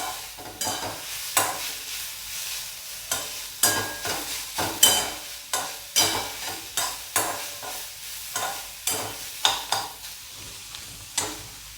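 Vegetable bhaji with peanut powder being stirred in a pan: repeated rhythmic scraping strokes of a spoon against metal, close and steady over a soft sizzle, with no talking.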